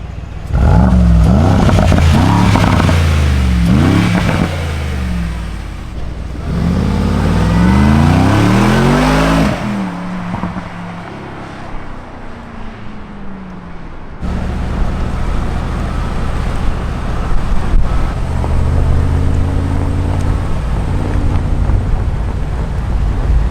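A Rolls Royce Cullinan Black Badge accelerates hard with loud rising engine revs through repeated gear changes, then settles into a steadier cruising drone with road and wind noise.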